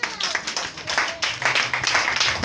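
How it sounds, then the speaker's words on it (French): A church congregation claps and cheers in acclamation, with bursts of rapid hand claps and raised voices swelling and easing in waves, loud and close throughout. "Acclamons Jésus"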